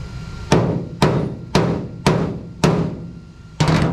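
Six sharp metallic hammer blows on a 1967 Ford Mustang convertible floor pan ring out at a steady pace, each decaying quickly, with a quick double strike at the end. Close and loud.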